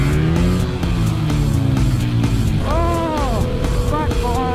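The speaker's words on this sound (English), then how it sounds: "Backfire!" An Aprilia 660 motorcycle drones loudly nearby, and quick crackling exhaust pops break through at a steady pace. Near the end a voice briefly cries out over the engine.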